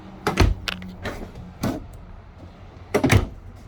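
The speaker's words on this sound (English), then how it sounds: "Full extension drawers." A few knocks and sliding thumps of full-extension kitchen drawers being pulled open and pushed shut in a 2020 Jayco Precept 31UL motorhome, in three separate bursts with quiet gaps.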